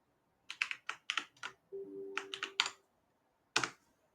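Keys on a computer keyboard clack close by in quick bursts as a script is typed in and run, and a final single keystroke lands after a short pause.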